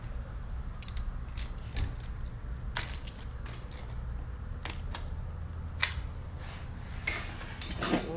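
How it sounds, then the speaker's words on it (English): Hand-tightening bolts on a bicycle fork: a series of small metallic ticks and clicks scattered over a steady low background hum, close and fairly quiet, with no talk. "Now we're gonna hand tighten the bolts."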